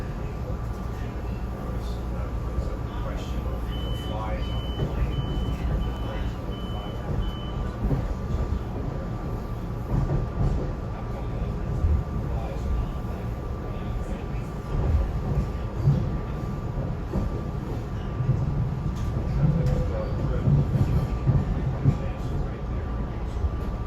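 A SEPTA Silverliner V regional rail train from Philadelphia rolls into Norristown Transportation Center, its steady low rumble continuous and close, with a faint sustained tone riding over the rolling noise.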